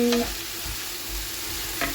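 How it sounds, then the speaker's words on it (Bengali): Soybean curry being stir-fried while okra and potatoes fry alongside, a short burst of steady sizzling with a few stirring scrapes and a spoon clink at the start. "সয়াবিনের তরকারিটা তো কষাচ্ছি আর এইদিকে ভেন্ডি আলু ভাজা বসিয়ে দিয়েছি"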